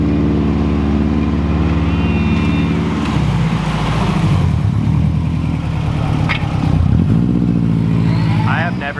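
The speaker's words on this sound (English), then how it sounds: "I have never seen such good all-wheel drive donuts in my entire life" Audi S4 spinning all-wheel drive donuts, its engine roaring loudly and continuously as the pitch climbs, dips and surges again with each rev.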